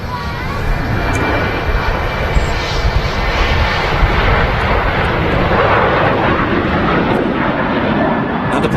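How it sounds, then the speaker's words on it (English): A Ryanair airliner departs Manchester Airport bound for Tenerife South, its loud sustained jet engine roar filling the air continuously, broadband and steady throughout. "And departing there is Ryanair flight 4332 to Tenerife South Airport."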